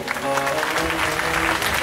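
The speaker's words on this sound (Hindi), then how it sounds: "ताली बजाइए।" Audience clapping along at a Bhagavat Katha sermon in Bhatta Mohalla, Katni, Madhya Pradesh, a dense wash of hand claps filling a short burst alongside a faint voice and tonal music.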